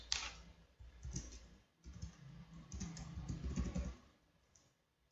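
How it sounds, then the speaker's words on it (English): Keys on a computer keyboard clack in quick, irregular bursts with short pauses, close and fairly quiet, while a Python program is typed at a command prompt. "Now, type the same program here."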